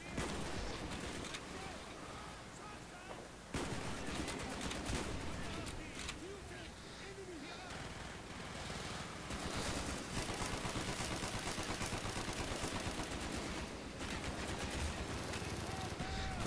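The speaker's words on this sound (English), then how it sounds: "Wow, look at the terrible sniping." Sniper and automatic gunfire in the video game Project Nova, a dense, continuous barrage of shots and explosions filling the whole stretch, with a sharp jump in loudness a few seconds in.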